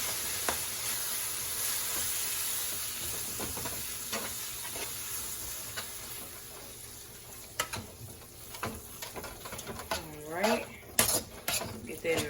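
Taco meat being stirred with taco seasoning in a pan, with soft sizzling, scraping and utensil clinks against the pan, growing more pronounced toward the end.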